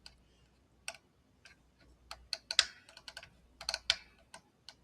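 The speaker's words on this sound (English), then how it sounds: "The switch is a little soft. It just doesn't click into space into each." A worn, soft pickup selector switch on a Fender-style Stratocaster electric guitar is flicked back and forth, producing a string of faint, sharp plastic clicks in irregular clusters against a quiet background.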